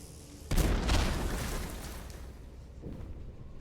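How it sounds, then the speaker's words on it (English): In the video game Dishonored: The Brigmore Witches, a sudden deep explosion sets off a grenade, giving a loud boom with a crackling burst that fades into a rumbling tail. "the one explosion actually triggered the passive grenade just sitting there"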